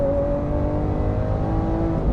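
Lamborghini Aventador S V12 engine pulling steadily under acceleration, a smooth rising tonal drone heard from inside the car, moderately loud with no speech over it.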